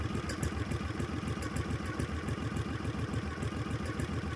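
An 18hp V-twin engine on a minibike idles close by with a steady, lumpy, pulsing rhythm and light mechanical clatter, continuous throughout with no talking.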